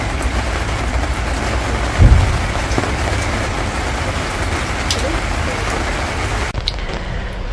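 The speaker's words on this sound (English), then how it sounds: "Listen to the rain." Steady, loud rain falls close by in Scotland, a dense continuous hiss with a low rumble and one brief thump partway through, heard alone without talk.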